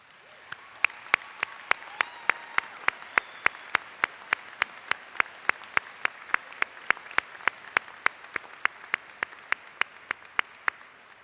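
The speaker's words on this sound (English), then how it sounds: "please stand and accept our heartfelt congratulations and applause." Applause for graduates at a commencement ceremony, a steady wash of clapping from a large crowd, with one close, loud clapper standing out in an even rhythm over the whole stretch.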